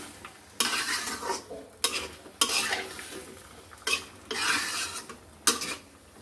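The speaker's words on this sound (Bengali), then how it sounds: "এবার এই মশলার সাথে আমি আমার কুমড়াটা খুব ভালোভাবে একটু" Pumpkin being stirred with spices in a pan, a spoon scraping in repeated strokes about once a second over a faint sizzle, close and fairly quiet.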